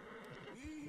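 A nervous horse in Red Dead Redemption 2 neighs and whinnies faintly in a short rising and falling call, with someone speaking over it.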